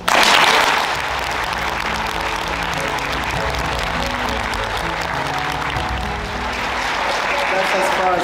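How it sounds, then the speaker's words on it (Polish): Sustained applause from an audience at a graduation gala, loud and dense, starting with a strong burst then holding steady as a continuous wash of clapping with crowd voices mixed in. "Brawa dla was."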